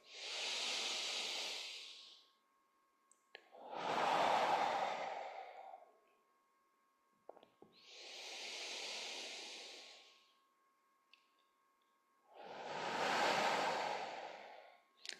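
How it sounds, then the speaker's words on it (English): Slow, deep breathing exercise for balance and core stability, four long airy breaths with quiet pauses between them, each a soft hissing inhale or exhale lasting about two seconds, close and alone. "5 to 10 nice, slow breaths of that turtle breath"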